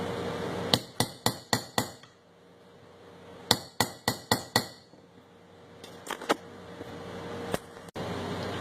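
Quick series of sharp metallic taps from a small hammer setting a pin into an Ithaca Model 49R .22 rifle, in three bursts of several strikes each with short pauses between them.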